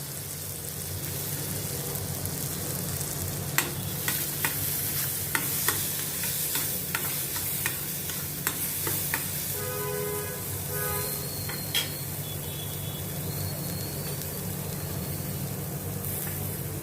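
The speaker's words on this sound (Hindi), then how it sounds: "इसमें ये जो चने की दाल मैंने बॉयल की है इसमें मैं ये डालती हूँ।" Boiled chana dal sizzling in hot oil over a low flame, a continuous even fry hiss punctuated by spatula taps and scraping, with no voices.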